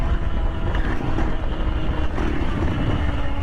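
A 63cc ONYX RCR two-stroke gas engine on a tribrid bicycle runs steadily, a loud, continuous low buzzing drone close by with no pauses.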